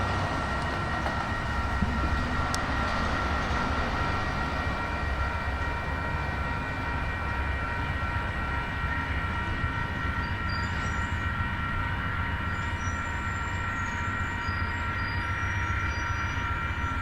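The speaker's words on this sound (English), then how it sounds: "As the train leaves town" A Union Pacific freight train rolls out of town on Donner Pass in winter, a long, steady, loud rumble of wheels and cars with faint squealing and no voices.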